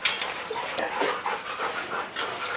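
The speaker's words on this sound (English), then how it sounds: "And this one's also a Rottweiler mix." A Rottweiler mix dog pants close by in quick, rhythmic breaths at a pet resort, with a few faint whimpery edges and no clear talking.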